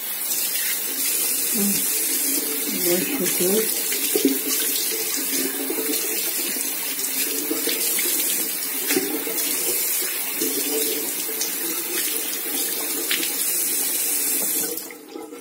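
Water runs steadily from a tap into a sink during washing, a constant splashing hiss that lasts about fifteen seconds and stops abruptly at the end.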